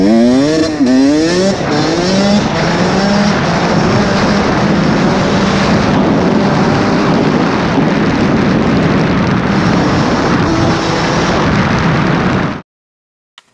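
A Honda CR 80 two-stroke motorcycle on a winter ride, its engine loud and close, rising and falling through quick revs at first, then holding a harsh, crackling full-throttle drone for about eleven seconds before cutting off abruptly.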